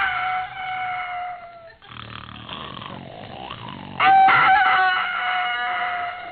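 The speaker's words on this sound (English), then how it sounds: "The rooster is crowing." In a 1950 radio comedy about farm life, a rooster crows twice, loud and close, with a long rising-and-falling call at the start and again after a pause filled with low snoring and clucking sounds.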